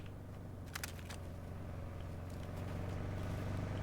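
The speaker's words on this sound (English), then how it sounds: "I hear a truck." A low, steady truck engine rumble in a video game that grows slightly louder, like a truck idling or approaching, with a few faint clicks on top.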